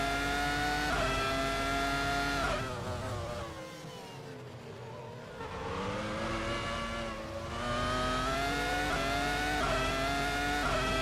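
Race cars in the F1 2002 video game at the British Grand Prix scream past in an overtake, loud engine whines rising and falling in pitch, dipping mid-clip before climbing again.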